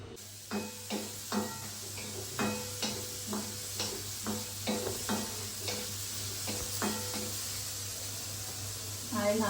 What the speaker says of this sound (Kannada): ಈರುಳ್ಳಿಯನ್ನು ಹುರ್ಕೋತಾ ಇದ್ದೀನಿ